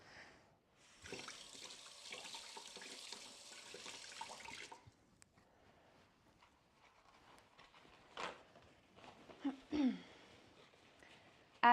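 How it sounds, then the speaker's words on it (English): A kitchen tap runs as hands are rinsed, with a steady rush of water for a few seconds, then quieter splashes, drips and handling sounds. "So let me just rinse my hands again."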